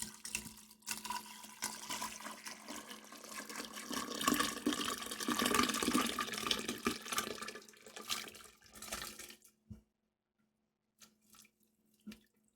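Warm water is poured carefully into a bag of fig wine mixture, a close, continuous splashing gush that builds for about nine seconds, then stops, leaving near silence and a few small knocks.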